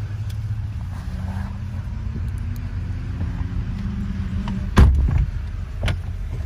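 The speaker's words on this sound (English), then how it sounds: "Vehicle starts right up, no issues at all." A 2015 Chevy Silverado 2500 HD pickup idles with a steady low engine rumble, then a louder burst of revving as it pulls away and drives, with a few thumps near the end.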